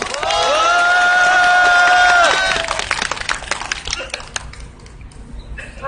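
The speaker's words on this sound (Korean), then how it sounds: "힘찬 박수 부탁드립니다" Crowd at a metalworkers' union solidarity rally cheering and clapping, with sustained shouting and whistles for about two seconds, then scattered claps tapering off, loud and close.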